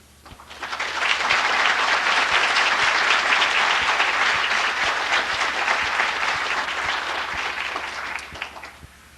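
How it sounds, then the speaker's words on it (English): A congregation applauds at a Kingdom Hall dedication, sustained broad clapping swelling in quickly, holding steady for several seconds and tapering off near the end, with no talking. "we're applauding the fact that this Kingdom Hall has been dedicated"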